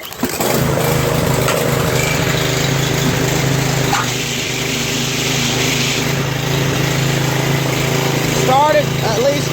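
Small auto-choke engine pull-started on a cold winter day catches and runs with a loud, steady buzzing drone close by, its pitch settling after a few seconds, with a voice heard faintly beneath.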